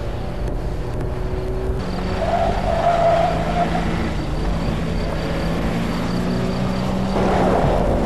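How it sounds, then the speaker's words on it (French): A Mitsubishi 4x4 brakes hard off-road, its engine droning steadily while the tyres skid and scrub for several seconds. The sound is loud and close throughout, with no talking. "Le tout-terrain, c'est l'improvisation et le freinage d'urgence en fait partie."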